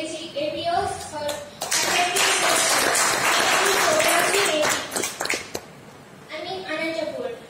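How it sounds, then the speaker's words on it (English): Audience at a school psychology association meeting in Anantapur breaks into loud applause for several seconds between stretches of amplified speech, with clapping filling the hall before a voice returns. "So give a great applause to APF"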